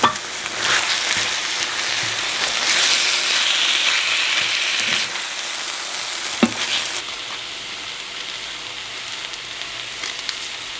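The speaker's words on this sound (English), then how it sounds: "So we're just browning up our ground turkey a little bit" Ground turkey browning in a cast iron pan gives a steady close sizzle with scraping stirs, swelling louder midway before easing to a softer fry.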